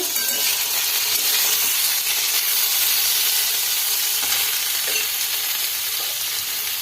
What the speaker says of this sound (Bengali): আমার পটল আলু কষানো হয়ে গেছে